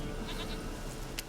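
A goat bleats in The Witcher 3: Wild Hunt, a short faint call over a steady low game-world backdrop, with a brief sharper sound near the end.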